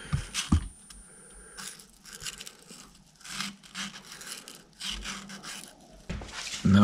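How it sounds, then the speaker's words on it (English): Sandpaper is pulled back and forth between the contact points of a points ignition system, producing short, close, scratchy rubbing strokes separated by brief pauses. "Just pull them open, put the sandpaper in and pull it back out."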